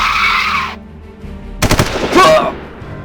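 Rifle fire in a zombie film scene, a short burst of several sharp, loud shots in quick succession following a brief hiss, then a ringing metallic clatter, no speech.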